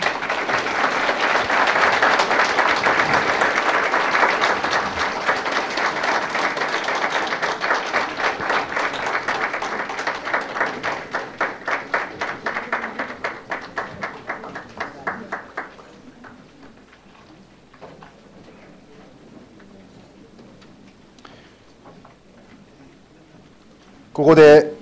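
A debate audience at the 2012 Okutama mayoral election forum applauds as the candidates and coordinator leave, loud dense clapping that thins into scattered claps and fades to near quiet, ending with a brief bump.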